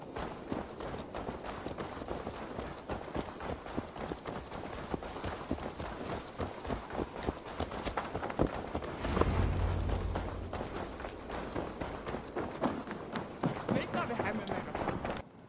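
Hoof clip-clops from a walking horse in the video game Assassin's Creed Valhalla, steady and moderately close, mixed with game ambience and a brief louder swell partway through.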